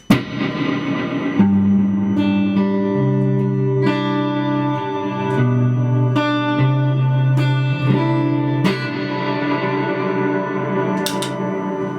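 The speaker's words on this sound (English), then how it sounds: "I've got the MXR reverb set to fairly full" Electric guitar chords ring out through an MXR reverb pedal set fairly full, each strum sustaining and blending into a spacious ambient tail, played alone.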